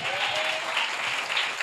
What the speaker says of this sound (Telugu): అందరు చప్పట్లు కొడతారా?